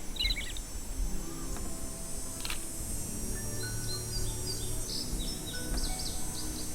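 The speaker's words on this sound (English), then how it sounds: "Do you have to listen to the bird sounds?" Bird chirps and tweets from the video game Nancy Drew: Ghost Dogs of Moon Lake repeat in short bursts over a steady outdoor ambience with faint insect hum, no talking.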